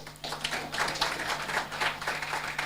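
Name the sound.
audience applause at an awards ceremony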